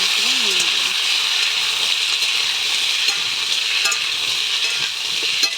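Washed potatoes and chopped taro stem pieces sizzle steadily in hot oil, a loud, continuous frying hiss with occasional stirring scrapes, close up and without talk.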